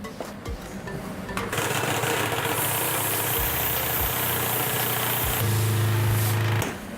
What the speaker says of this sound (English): The vibration plate allows the carbon to settle.